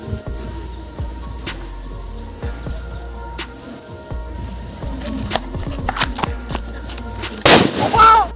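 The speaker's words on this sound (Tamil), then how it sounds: "இப்போ போட்டது பார்த்தீங்கன்னா மேலே போய் வெடிஞ்சிச்சு" Firecrackers go off during an outdoor cricket game played with crackers, giving scattered pops and cracks throughout and one loud, close burst near the end, set against insect and bird ambience.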